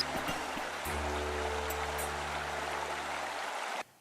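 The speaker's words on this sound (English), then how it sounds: "there's a pretty steady trickle" Running water from a small stream in a steady, continuous wash with faint low rumble, close and even, stopping abruptly near the end.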